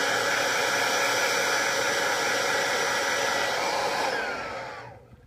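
A heat gun warming a wet-applied decal gives a steady, loud airy roar that holds evenly for several seconds before winding down and cutting off near the end, with no voices.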